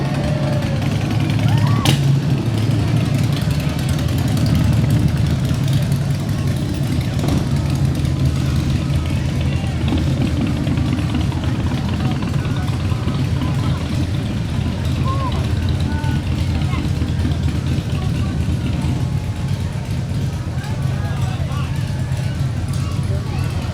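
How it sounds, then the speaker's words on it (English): Motorcycles roll past in a Fourth of July street parade in Jeffersonville, with a steady engine rumble and crowd noise running throughout, under continuous talk from a commentator. "Now we have some motorcycles rolling through."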